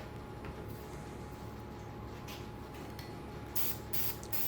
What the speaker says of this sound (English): I'm not really sure why I didn't put paper down as I'm spraying this glue.